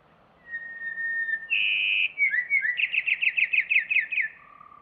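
A slowed-down bird song: a long whistled note, then a rapid series of about ten descending trilled chirps, clear and close, over quiet background hiss.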